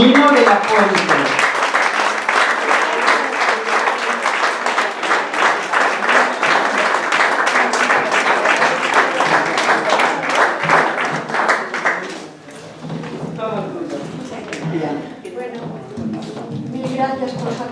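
Audience applause for a musician at a poetry evening, a steady, fairly loud round of rhythmic clapping lasting about twelve seconds, then giving way to a single person speaking.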